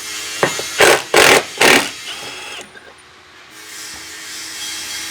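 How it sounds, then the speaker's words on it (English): Removing a 13mm bolt from a Bronco rear bumper body mount with what sounds like a power ratchet or impact tool: three loud, close bursts of buzzing, then quieter handling noise and a low background hum. "The head of that bolt is a 13mm head, so we're going to remove that."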